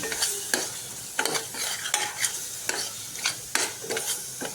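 Chickpea flour bhaji frying in a pan as coriander powder and chili powder are stirred in, a steady sizzle broken by repeated scraping strokes of a spoon against the pan, close and moderately loud.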